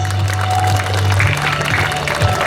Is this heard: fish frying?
no